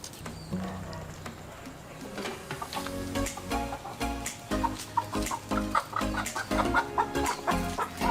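A flock of chickens clucks and pecks eagerly while being fed fruit outdoors in Pangasinan, Philippines, with rhythmic bursts of clucking and scratching close by and faint voices in the background.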